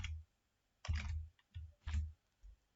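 A handful of separate clicks from a computer keyboard while code is typed into a NumPy session, coming as distinct, fairly close keystrokes with short gaps of silence between them.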